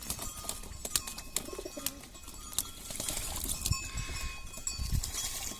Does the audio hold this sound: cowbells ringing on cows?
yes